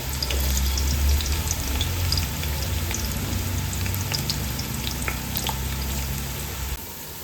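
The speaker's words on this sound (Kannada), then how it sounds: "ಕಟ್ ಮಾಡಿದ ಈರುಳ್ಳಿನ ಸೇರಿಸ್ಕೊಂಡು ಫ್ರೈ ಮಾಡ್ಕೊಳ್ಳೋಣ." Sliced onions frying in hot oil in a pan for chicken tikka biryani, a loud continuous sizzle with scattered crackles and pops, close and steady throughout, no voices.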